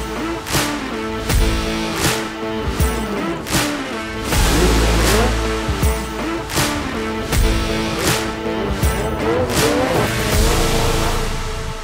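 Snowmobile engines rev hard and repeatedly during jumps, loud surging whines rising and dropping in rhythmic bursts with sharp breaks between them, close and unbroken by talk.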